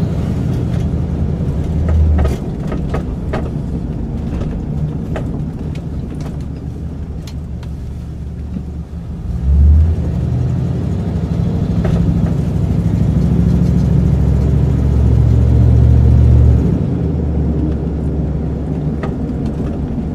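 A classic Buick V8 runs steadily at a low, rumbling idle, close and loud throughout, with brief revs swelling the rumble near the start, midway and again later. No one speaks.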